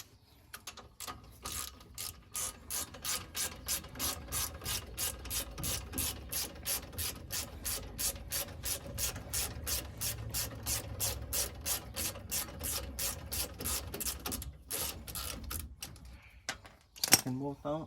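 A ratchet wrench clicks rapidly and steadily in fast, even strokes while loosening a brake caliper bolt on a Ford F150. The metallic ratcheting runs for most of the stretch, pauses briefly, then ends with a few louder clanks.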